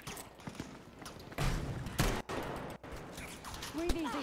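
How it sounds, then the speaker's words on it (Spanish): Gunfire in the video game Battlefield V on PS4, a dense burst of shots and bangs from mid-clip onward, sharp cracks amid constant battle noise, with a voice talking over it. "¡Me matan disparando a lo loco!"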